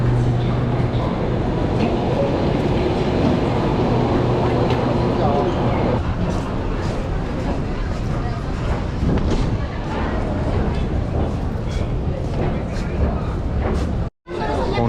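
Guangzhou metro train rumbling into a station, a steady loud roar of wheels and motors with rail clatter throughout, settling slightly after midway and cut by a brief dropout near the end.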